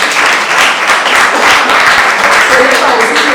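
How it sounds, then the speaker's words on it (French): Applause from an audience at an NGO's fifth-anniversary celebration, a dense, loud, continuous clatter of many hands clapping, with voices mixed in throughout. "Applaudissez Madame Tabata."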